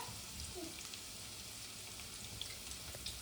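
Onions frying in a pan for a North Karnataka-style mutton sukka, a steady soft sizzle with faint crackles running evenly throughout, close and unbroken, with no talk over it.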